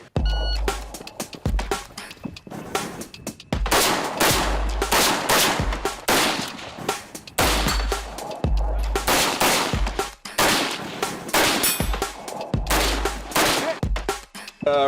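Rifle fitted with a muzzle brake firing rounds at steel plates on a shooting course, a long series of loud, sharp shots in irregular bursts with ringing impacts between them.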